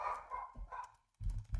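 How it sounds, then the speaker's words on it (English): A dog barking somewhere nearby, a few short yappy barks heard faintly in a quiet room with background noise and no talk over them. "Somebody's dog is Not mine this time."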